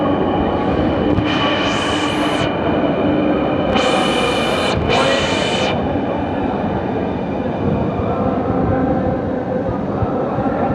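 A Bangladesh metro rail train runs in a steady loud rumble, with a bright high electric whine rising twice and then fading, and no talk over it.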